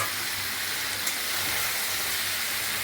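Potatoes going into mutton curry in a pot raise a loud, steady, close hiss of sizzling oil that holds unbroken for a few seconds.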